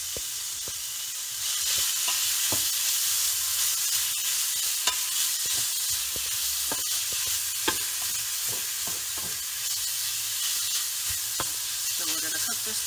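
Bacon frying in a hot pan for a loaded baked potato soup, a steady bright sizzle and crackle throughout with occasional sharp pops and stirring clicks, close and continuous without talk.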